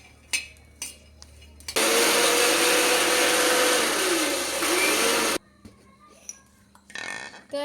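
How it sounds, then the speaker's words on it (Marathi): A kitchen mixer grinder whirs loudly for about four seconds, grinding green chillies with salt, starting and stopping abruptly between quieter clatter and handling sounds. "मीठ आणि मिरच्या वाटून घ्यायच्या त्यात आपल्याला"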